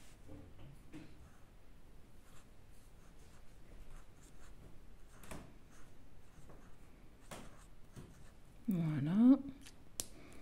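A pen scratches lightly across bullet journal paper in soft, intermittent strokes, followed near the end by a brief louder rustle or scrape.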